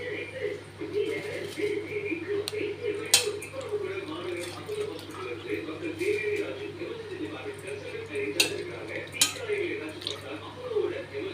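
Rice is stirred into a pot of boiling water while making veg biryani, with intermittent scraping and clinking of a utensil against the pot over a bubbling background and brief sharp knocks.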